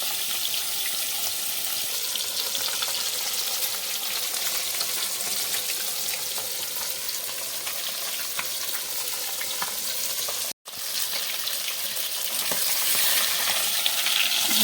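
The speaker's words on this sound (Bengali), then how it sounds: "মানে এক পিট ভাজা হয়ে গেছে" Pieces of rohu fish fry in a pan with a loud, steady sizzling hiss that stops for a moment and then carries on, with no talking.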